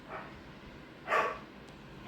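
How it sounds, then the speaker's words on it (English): A dog barks upstairs in a home, a single muffled, distant bark rising briefly above quiet room tone, with a faint sharp sound right at the end. "there's Lucy barking upstairs."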